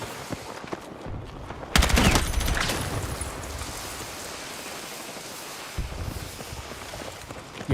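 Rapid gunfire in a Battlefield 6 video game, a sudden dense burst of shots that fades into sustained crackling combat noise, with a few more shots later, heard alone.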